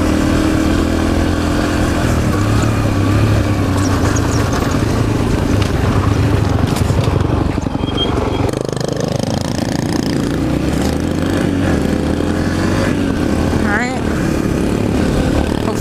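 A Yamaha TTR 125 dirt bike engine drones and revs steadily while being ridden through deep sand on a trail, loud and close throughout, with engine pitch rising and falling as the throttle shifts.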